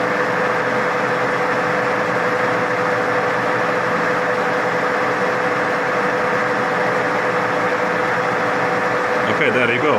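A TOS SN63B lathe runs at slow speed while its oil pump circulates oil. It makes a steady, loud mechanical hum with a constant drone that lasts the whole time.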